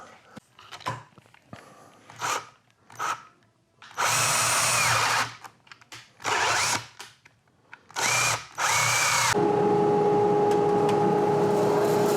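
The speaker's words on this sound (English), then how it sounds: "I need to drill a hole in there for my woodworm screw." A power drill whirs in several short bursts, then runs in longer sustained spells, its pitch dropping as it bites into poplar wood.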